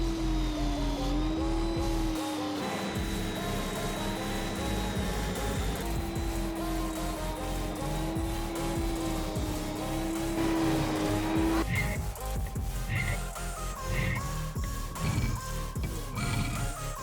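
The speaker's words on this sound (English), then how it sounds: "I just need to go ahead and shape it on the sander" A sander shapes a steel batarang, a steady droning whir with grinding texture that runs the whole length and turns rougher and more scratchy toward the end.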